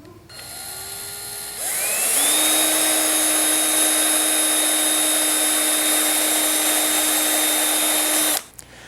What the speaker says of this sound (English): What you're going to do is simply drill right through the center here.